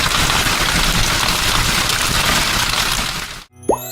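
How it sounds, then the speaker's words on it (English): Hail from a storm pelts surfaces in a dense, loud, continuous rattling clatter of ice pellets that cuts off abruptly near the end, followed by a brief tonal blip. "The sound comes from ice pellets hitting surfaces during a storm."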